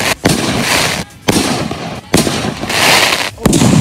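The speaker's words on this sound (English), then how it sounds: "Tying things to fireworks and blowing them up." Fireworks with things tied to them explode in sharp, loud bursts, with about four blasts spaced roughly a second apart, each followed by a crackling, hissing tail.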